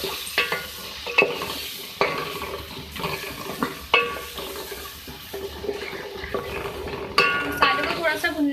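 Garlic ginger paste with coriander, turmeric and red chilli powder frying in a pan for an aloo anday salan, with repeated scraping stir strokes and a low sizzle, close and fairly loud; a few clinks of utensil on metal.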